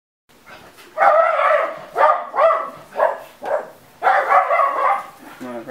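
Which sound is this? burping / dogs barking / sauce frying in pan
dogs barking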